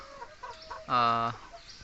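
A chicken lets out one short, squawking call up close over a faint background hum, with softer clucking sounds just before it.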